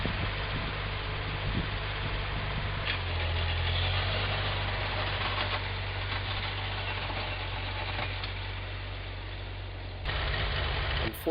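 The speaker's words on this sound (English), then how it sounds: "As you can hear, the tractor's starting to sputter right now" Ford 9N tractor engine running at idle with a steady low rumble that roughens and wavers as it begins to sputter, close and continuous throughout.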